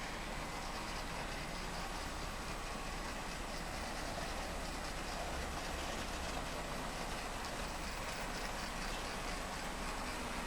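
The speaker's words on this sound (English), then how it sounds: "as our continuous running train clears these turnouts" A continuously running model train rumbles steadily through a set of turnouts, giving an unbroken rolling roar with faint clicking wheel noise throughout.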